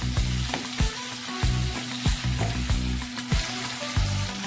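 Onion sizzling in hot oil for an urad dal tadka, a steady crackling fry broken by repeated scraping stirs of a spoon against the pan, close and fairly loud with no talking.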